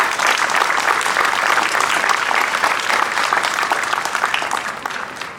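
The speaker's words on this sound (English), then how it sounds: "you can give a round of applause" Sustained applause from a crowd at a Veterans Day commemoration after a choir performance, a thick even wash of clapping that softens a little toward the close.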